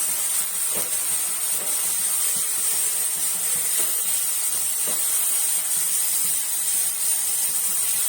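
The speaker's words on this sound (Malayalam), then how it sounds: "നമ്മളിനി ഒന്ന് പതുക്കെ ഇളക്കിയിട്ട് നമ്മളിങ്ങനെ ചിക്കിയെടുക്കാം." Kothu idli is stirred and scrambled with egg masala in a pan, heard as a steady, even hiss of sizzling with faint, soft stirring taps every second or so.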